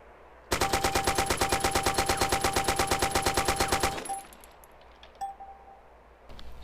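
An AK-74 Kobra assault rifle in DayZ fires a full automatic burst of about thirty evenly spaced shots over roughly three and a half seconds, loud and crisp, followed by quiet clinks and small mechanical sounds.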